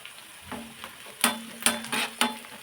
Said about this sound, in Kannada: ಸ್ವಲ್ಪ ಕರಿಬೇವು ಹಾಕ್ತಾಯಿದ್ದೀನಿ.